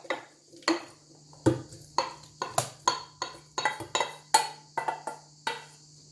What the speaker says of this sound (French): je vais le verser la préparation dans le mixeur